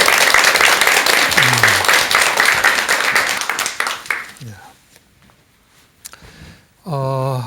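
An audience applauds to welcome a doctor giving a lecture, with loud, dense clapping that fades out after about four seconds, brief talk over it, then quiet until a voice speaks at the end.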